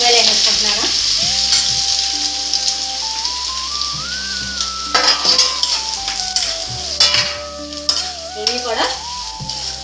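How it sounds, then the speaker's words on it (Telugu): Onions and green chillies sizzling and frying in hot oil with curry leaves, a steady loud crackle throughout with occasional stirring scrapes and a brief voice. "ఉల్లిపాయలు వేసేసుకుంటున్నాను"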